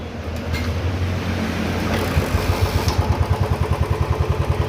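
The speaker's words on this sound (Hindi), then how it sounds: "सबसे पहले गाड़ी को स्टार्ट करते हैं।" A Royal Enfield Bullet motorcycle with a ticking-noise fault starts up and settles into its characteristic loud, close thumping idle, with evenly spaced pulses repeating steadily and no talking.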